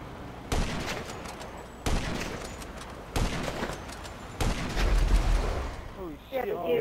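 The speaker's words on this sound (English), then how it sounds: "Huge explosion." Heavy gunfire and explosions from a shooting game: four sudden loud broadband blasts, each followed by a rumbling tail, with a brief voice near the end.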